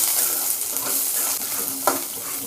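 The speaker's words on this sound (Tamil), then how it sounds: "இந்த வெங்காயம் போட்டுடலாங்க." Onion sizzling and being stirred in a hot pan with dried chillies while making a quick chutney, with a steady fry hiss and a brief clatter of the spoon partway through, no talk.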